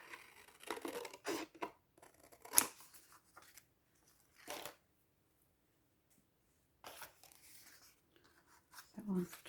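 Scissors snip through paper card stock in a few short crisp cuts spread across quiet pauses, close and fairly faint, with some light handling sounds of paper.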